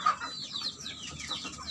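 Baby chicks at feeding time, a dense flock peeping in high, overlapping chirps, close and continuous.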